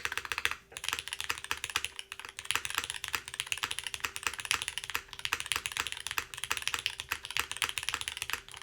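A mechanical keyboard with retooled Cherry black switches, an aluminum plate and GMK keycaps is typed on quickly and steadily, giving a dense run of close, crisp clacks with few pauses.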